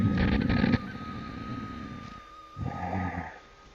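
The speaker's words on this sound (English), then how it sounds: "a kind of a snoring sound will happen as we breathe in." A hoarse, snoring-like ujjayi pranayama breath drawn in through the throat, rasping and close, followed by a second shorter raspy inhale.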